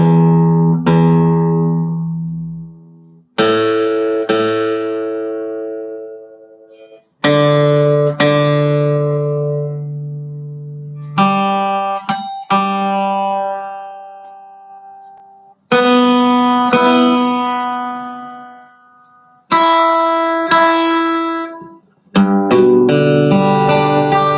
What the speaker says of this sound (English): I'm going to go through my open strings so you can check the tuning